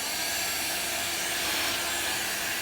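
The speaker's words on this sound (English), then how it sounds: "So we're trying out this supposedly really highly recommended vacuum." A highly recommended vacuum cleaner sucks up fine sanding dust during a home renovation, a loud, steady airy roar that runs unbroken and close throughout.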